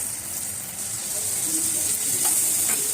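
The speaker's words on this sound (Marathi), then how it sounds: "अशा प्रकारे मिरची सर्व याच्यात फ्राय करायला ठेवली" Stuffed green chillies frying in a pan, producing a continuous close hiss and sizzle that swells slightly louder toward the end, with no voices.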